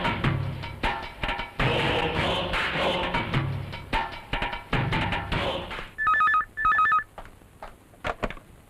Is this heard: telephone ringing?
yes